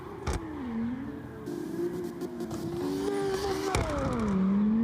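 Lexus LFA engine in a racing video game, a steady mid-pitched drone that rises and falls as the revs climb and drop, with brief clicks and shifts, heard alone at moderate level.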